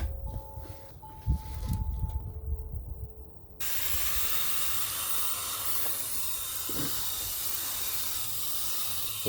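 Water pouring and hissing steadily into compost, perlite and soil filling a raised bed barrel, a continuous close wash after a few quieter handling noises.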